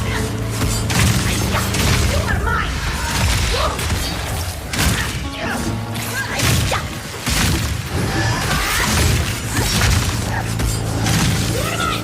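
Crossbow bolts, incendiary and armor-piercing, fire repeatedly during a mini-boss fight in the action RPG Path of Exile 2, a dense run of loud thumps, whooshes and shattering impacts layered over continuous battle noise and music.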